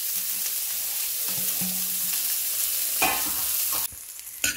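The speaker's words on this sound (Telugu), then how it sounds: "ఇప్పుడు మిగతా వెజిటబుల్స్ అన్ని వేసేస్తున్నాను" Vegetables stir-fried in a pan for a winter soup in a home kitchen, a continuous close sizzle with scraping stirs of a spoon, ending in a few clatters and no talk.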